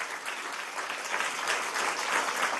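A room of constituent assembly members at Miraflores palace applauds children and youth, the clapping dense and sustained at a steady level from start to finish, with no voices over it.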